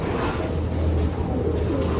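Pigeons coo in a loft, a low repeated burbling over a continuous background hum, close and steady for the short stretch.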